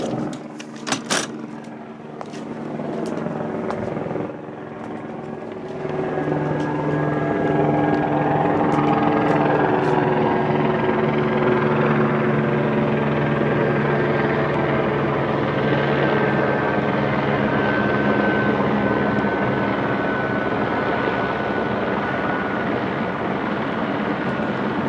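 A helicopter approaches at night, its rotor drone swelling from faint to loud and holding steady as it passes overhead, with a few sharp knocks at the very start.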